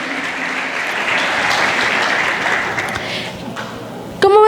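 A church congregation claps loudly for a few seconds, the applause gradually thinning out, and then a voice cuts in at the very end.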